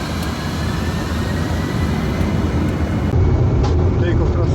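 Engines on a Boeing 747-400 special freighter spool up to takeoff thrust, making a loud, dense roar heard from the cockpit that grows heavier toward the end, with radio and crew voices over it.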